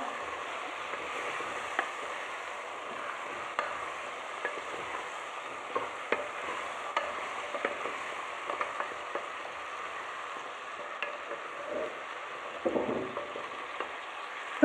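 Red lentil soup with potato and spices being stirred in a pot, a steady soft bubbling and scraping texture with faint clicks of the spoon, continuous and fairly quiet throughout.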